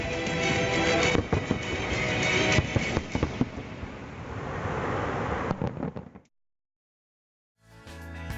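A fireworks display bursting, with loud crackling pops and booms clustered over a rumbling wash that fades out into silence before another short burst begins.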